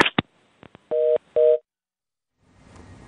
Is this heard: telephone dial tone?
yes